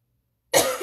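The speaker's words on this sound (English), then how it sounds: "I don't know why I cough every time I get on here." Silence, then a single sharp cough bursts out close to the microphone.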